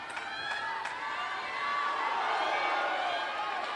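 A crowd cheers and whoops at the ITTF World Table Tennis Championships Finals in Doha, a broad roar that swells and stays loud, with individual shouts standing out above it.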